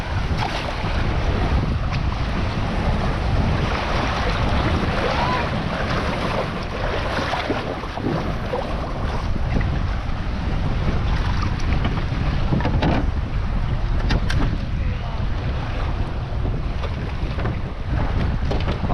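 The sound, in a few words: canoe on lake water with wind and swell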